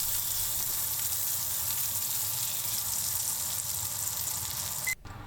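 A tuna steak sears in a hot pan, giving a loud, steady, close sizzle that continues without a break, with a short click near the end and no talking.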